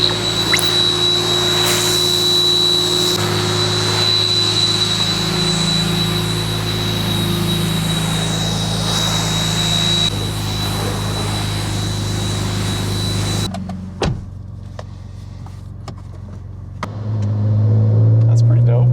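A Cadillac Escalade with the 6.2 V8 runs with a steady low rumble and rising revs, loud and close, cutting off briefly before the engine swells again at the end; voices talk over it.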